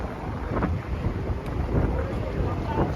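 Steady wind blowing hard across a microphone at night on the Las Vegas Strip, a continuous low rumble with gusty surges throughout and no other clear sounds.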